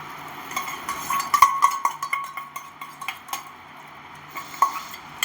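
A masala egg omelette cooks in a pan on a camping stove while a utensil clinks and scrapes against the metal in an irregular run of close, bright taps. A faint sizzle sits underneath, and no one speaks.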